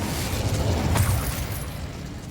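An Incendio fire spell cast in the game Hogwarts Legacy, a loud whooshing burst of flame that flares once and trails off over a dense rumble.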